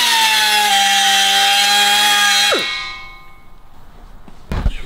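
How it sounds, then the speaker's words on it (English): Dremel rotary tool cutting into a switch panel on a 1934 Austin 10, a loud close high-pitched whine that drops in pitch and cuts off, followed by quiet and a sharp knock. "So we'll just give him a little Dremel out."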